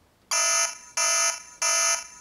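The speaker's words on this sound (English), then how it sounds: "here's siren two" A DOME siren alarm linked to a SmartThings hub, set to its second siren tone, sounds three loud, shrill electronic bursts of even length, separated by short gaps, with no talking.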